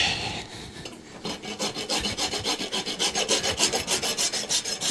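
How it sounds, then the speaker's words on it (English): A rasp files back and forth across a young draft horse's hoof, a coarse rhythmic scraping of strokes speeding into a quick steady pattern, close and loud with no talking. "it doesn't take much rasping to get her done"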